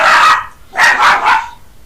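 A young dog, one to two years old, barks loudly and close by: one sharp bark, a short pause, then three quick barks in a row.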